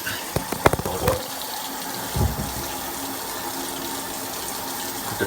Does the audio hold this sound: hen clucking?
no